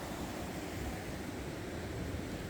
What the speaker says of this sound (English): that's what I mean about the moving water